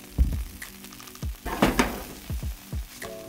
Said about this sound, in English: The garlic and shallot going into the pan.